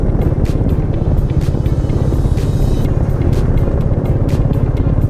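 Royal Enfield Meteor 350 motorcycle plodding through the busy centre of the historic town of Ledbury, its steady low engine drone loud and continuous throughout with no talk.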